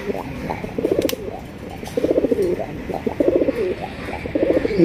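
Pigeons cooing up close in bursts of rhythmic, throaty coos separated by short pauses, set against a steady low background murmur.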